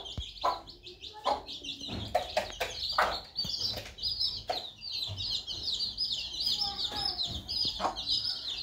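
A desi mother hen clucks in short repeated bursts among her newly hatched chicks, whose high, thin peeping runs almost continuously beneath her calls, close and moderately loud.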